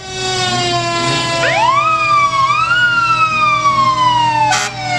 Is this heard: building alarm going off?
no